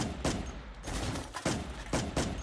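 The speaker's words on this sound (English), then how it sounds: "5 staccato bangs echo deafeningly in the room, cutting short a cry of pain." Five sharp staccato gunshots crack out in a rapid uneven burst inside a room, loud and echoing, as a sound effect for a Warhammer audiobook scene.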